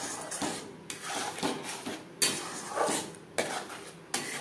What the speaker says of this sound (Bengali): মশলার সাথে নারকেলের পেস্ট বেশ ভালো করে মিক্স করে দেব।